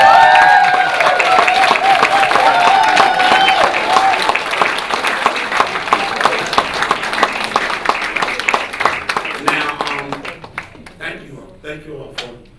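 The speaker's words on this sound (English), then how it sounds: "Thank you all for applauding me" An audience at an underground poetry evening applauds after a poem, dense clapping holding strong at first and then thinning and fading out toward the end.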